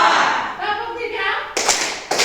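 For the third clapping pattern, voices chant together first, then the group lands two sharp, loud unison claps about half a second apart.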